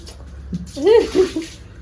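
Water runs while a fish tank is washed on a balcony, a short splashing rush under a person talking nearby.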